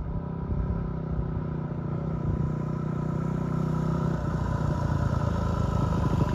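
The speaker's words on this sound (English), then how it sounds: "Here's TB, back on the bike." Steady engine drone of a motorcycle being ridden on a moto trip across Queensland, Australia, heard as a continuous close rumble with wind noise and no talking.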